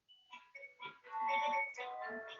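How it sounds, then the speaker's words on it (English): A home doorbell plays a melodic chime of several tones, first a few spaced notes then a fuller sustained run, clear and moderately loud with no one talking. "That's my doorbell."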